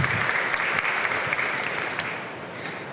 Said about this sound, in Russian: Аплодисменты Паше.